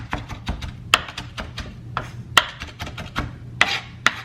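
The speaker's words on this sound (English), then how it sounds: "So again, super rough chop of the rosemary." A knife roughly chopping rosemary on a board while a steak and potatoes dinner is prepared, heard as irregular close taps and scraping rasps, with a few sharper knocks standing out.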